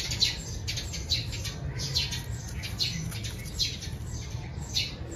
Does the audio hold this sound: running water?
no